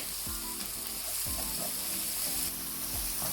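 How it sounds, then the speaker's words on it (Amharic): Carrots, garlic and ginger fry in hot oil with a steady close-up sizzle, broken by several scraping stirs of a spoon in the pan. "ዘይቴ ትንሽ ጠበስ ካለ በኋላ ካሮት እጨምርበታለሁ ካሮቱን ከጨመርኩ በኋላ ነጭ ሽንኩርትና ዝንጅብሉን አደርጋለሁ"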